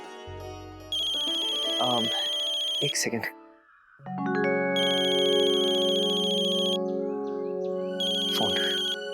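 A telephone ringtone plays a loud electronic melody in repeated bursts, pausing briefly before resuming, with a person speaking briefly in between.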